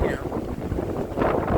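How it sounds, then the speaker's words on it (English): Heavy wind buffeting a microphone, a low rumbling roar that gusts and swells throughout the short stretch. "Apologize for the wind. Just a windy day."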